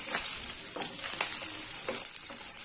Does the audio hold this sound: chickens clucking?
no